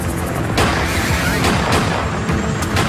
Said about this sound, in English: As the first agents approach, gunfire erupts.